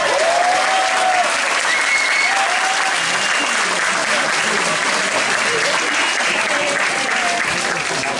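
Steady, dense audience applause fills a lecture hall during a public talk on the first photograph of a black hole, unbroken and even throughout with a few voices faintly underneath.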